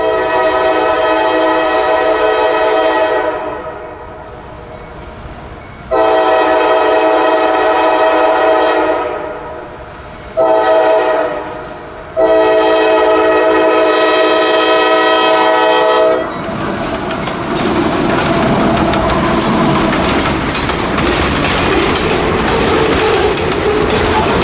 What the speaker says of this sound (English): Everything is quiet on a South Georgia Sunday morning until the train gets here.